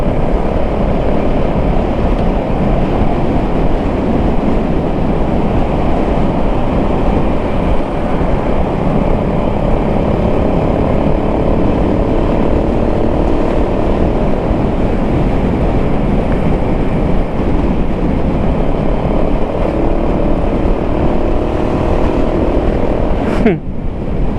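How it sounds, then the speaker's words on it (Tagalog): A continuous low rumble of a passing LRT light rail train, steady and fairly loud throughout, with wind buffeting and no voices. "Yan yung LRT oh"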